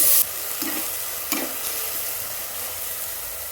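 Ground masala paste frying in a pan for a green vegetable biryani, a steady low sizzle with a couple of soft scraping stirs near the start and no talking.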